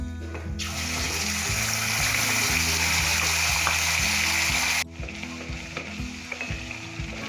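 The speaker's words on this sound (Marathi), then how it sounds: "आपण हे मिश्रण आता तेलात परतून घेऊया." A vegetable mixture sizzles and fries in hot oil with mustard seeds for a mattar paneer gravy, a loud steady hiss that cuts off abruptly near the end, leaving quieter stirring and kitchen noise.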